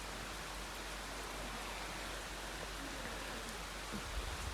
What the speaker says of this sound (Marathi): पाऊस चालूच होता